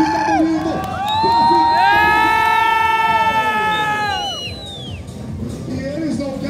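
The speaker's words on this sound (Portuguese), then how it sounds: "Tem que aplaudir, tem que fazer barulho pra ficar bonito." A loud crowd at a motorcycle stunt show in Ji-Paraná cheers and shouts together, with a long sustained chorus of voices swelling and then fading.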